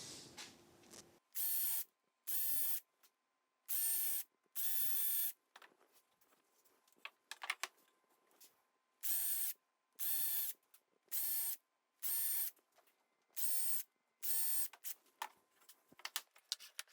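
A power drill bores into a timber board in repeated short bursts of about a second each, with brief quiet gaps and small clatters between, fairly close.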